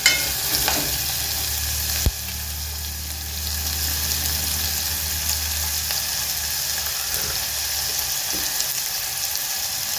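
Onions sizzle and fry in a hot pan, browning to golden, with a continuous loud crackle and hiss and a sharp clank near the start, no voices over it.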